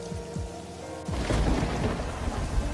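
Thunder rolls low and heavy before a downpour of hard rain takes over, drumming steadily and loudly on surfaces with no voices.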